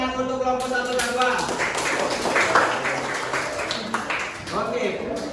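A classroom of students claps for two groups, a dense ragged patter of hands mixed with chatter and voices throughout.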